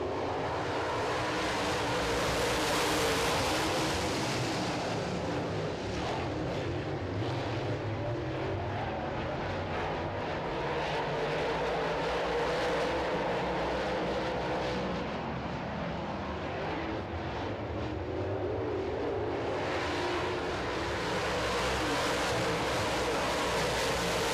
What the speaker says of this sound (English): As we get set to go late model racing, here we go.